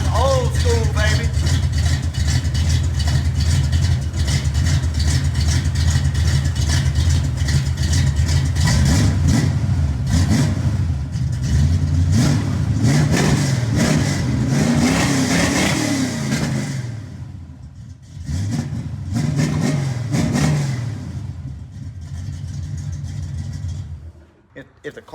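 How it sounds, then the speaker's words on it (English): A Foxbody Mustang engine with an old flat tappet Econo cam idles, then rises through several quick sharp revs and falls back, loud and close, with a carburetor that runs a bit rough. Someone talks over parts of it. "This thing revs so good."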